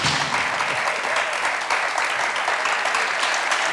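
Studio audience of mixed ages on a TV show claps together in sustained, even applause, dense and bright with no voices over it.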